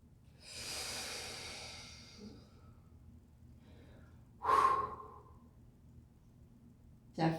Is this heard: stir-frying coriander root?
no